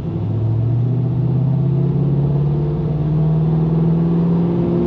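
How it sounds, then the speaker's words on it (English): A Pontiac GTO with a stalling problem idles and is given throttle, its engine rising in a loud, steady rumbling drone with low harmonics that climb slowly and hold, close up with no talking. "Let's rev it up, see what happens."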